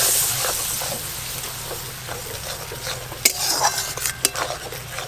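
Poppy seed paste curry being stirred in a pan, a steady spoon scraping with faint sizzling throughout and a few sharper metallic clinks of utensil on pan toward the end.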